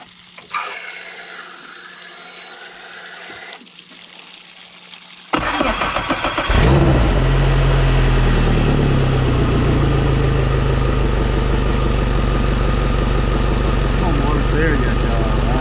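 A Suzuki DF150 outboard motor, flushed with water through a clamp, cranks and catches after several seconds of quieter background, then settles into a loud, steady running drone with water noise.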